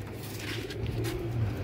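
Pigeons kept as pets coo close by in low, throaty, rolling calls that repeat steadily over a soft background hum.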